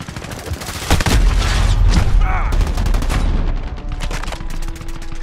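Loud, rapid bursts of gunfire fill a Call of Duty: Modern Warfare team deathmatch, dense automatic shots and impacts layered close together, with a voice briefly audible amid the shooting.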